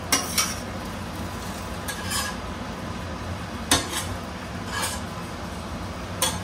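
Cooked omelette scraped from a pan onto a plate, with a few sharp metallic clinks of utensil against cookware spaced over several seconds above a low steady background hum.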